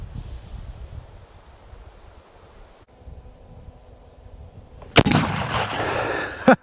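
A single sharp gunshot from a .56 caliber Colt revolving carbine cracks out loudly near the end, following a few seconds of quiet outdoor ambience with light wind.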